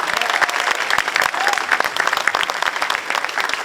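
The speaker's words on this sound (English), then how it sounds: "Yes, that's a round of applause." A round of applause from a crowd at a Portugal Day flag raising ceremony in Lowell, steady dense clapping throughout, fairly close and loud.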